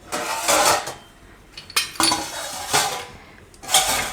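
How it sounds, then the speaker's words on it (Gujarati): Orange carrots being grated by hand in a home kitchen, with several rhythmic scraping strokes in bursts and short pauses between them, close and fairly loud. "ગાજર આપણે આ રીતે છીણી લીધું"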